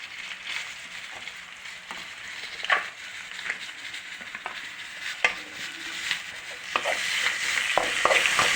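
Ginger frying in oil with mustard seeds, cumin and onion, sizzling softly in a pan while a spoon scrapes and stirs in irregular clinks, close up, with the sizzle growing louder toward the end.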